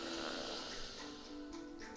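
A deep cleansing breath let go through an open mouth, a soft, steady breathy exhale with a slight throaty rasp, close and faint, with no talk over it.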